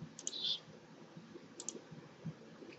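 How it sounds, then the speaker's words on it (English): Computer mouse clicks while setting default file locations in ESPRIT CAM software: a few faint, quick clicks near the start and another pair a little later, over quiet room hiss with no talking. "I'm going to go ahead and click on Modify."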